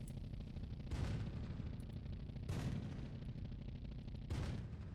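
Tank cannon shots in the video game Sprocket, three muffled booms spaced a second or two apart, each with a short rumbling tail over a steady low background.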